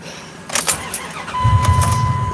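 A truck engine cranking and catching, a short starter whir followed by the engine firing up into a steady, close idle, loud and without talking.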